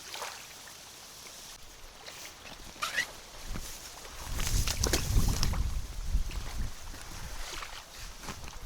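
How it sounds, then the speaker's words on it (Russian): Strong wind gusting across the Yauza river while fishing for zander, a steady broadband rush with heavier buffeting midway, alongside faint water movement and boat-like knocks. "Ветер опять сильный."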